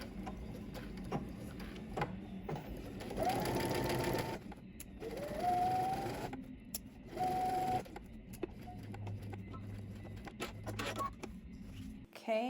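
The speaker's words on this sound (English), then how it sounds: "head to the sewing machine" A domestic sewing machine runs in several short whirring bursts as it stitches fabric from dot to dot, with clicks and handling noises and a voice speaking between the runs.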